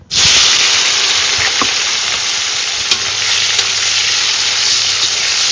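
Tomatoes dropped into hot oil with whole cumin give a loud, continuous sizzle and hiss, with a few faint stirring scrapes and no talking.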